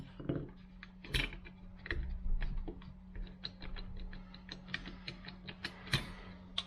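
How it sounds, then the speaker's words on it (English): A small robot chassis gearbox motor grinds and ratchets with irregular clicks and clatters over a low steady hum, heard up close and fairly quiet. "one of these motors has started grinding pretty badly"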